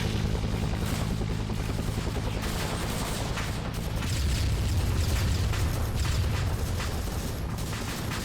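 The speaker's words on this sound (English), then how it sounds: "Ooh, rocket barrage." Rocket barrage explosions in a Vietnam War video game, with dense, continuous rumbling blasts and crackling impacts that overlap without pause for the whole stretch and grow heavier toward the middle.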